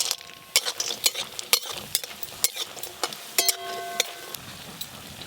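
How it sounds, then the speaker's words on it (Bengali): Bori lentil dumplings are stirred in hot oil, with sharp metal spatula scrapes and clinks against the pan coming at an irregular pace over a soft, steady sizzle. "বড়ি এই তো গরম তেলে নাড়তে নাড়তেই ভাজা হয়ে গেল দাদু।"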